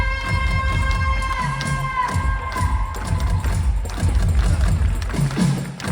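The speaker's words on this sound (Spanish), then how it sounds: "Un aplauso enorme aos monitores para Amanda Negra." At a concert in Ribeira, a large crowd claps and cheers continuously, loud and close. Sustained tonal notes ring through the middle of the noise, and bursts of shouting rise and fall.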